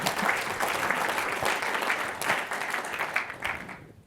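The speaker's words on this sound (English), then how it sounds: "Thank you for that applause." A roomful of people applauds a presidential address, a continuous dense clapping from the audience at moderate volume that gradually tapers off and fades out at the end.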